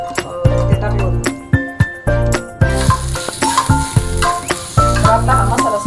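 Masala spice paste sizzling and roasting in a hot pan, a loud steady fry broken by repeated scraping strokes of a spoon against the metal.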